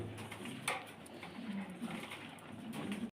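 A pair of Lahori pigeons at a Bangladeshi pigeon farm coo in low, rolling, repeated calls. The calls are close and steady over a constant background hiss.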